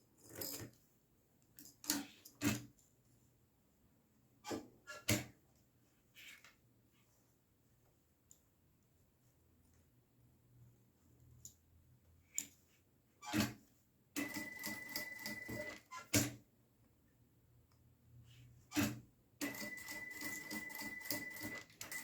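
A sewing machine stitches bias binding onto fabric, heard as faint scattered clicks and ticks and then two longer runs of rapid, steady mechanical stitching in a quiet room.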